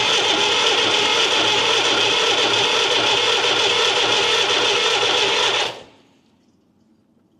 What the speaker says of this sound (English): we'll turn it over and see if we can bleed the injectors.